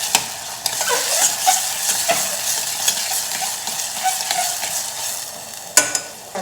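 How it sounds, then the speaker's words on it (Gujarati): Tomatoes sauté in a pan with ginger garlic paste and chilli, giving a continuous close sizzle and crackle, with occasional spatula stirs and scrapes and no talking. "ફરી આપણે બધું સાતળી લઈશું ટમેટાં સોફ્ટ થાય ત્યાં સુધી।"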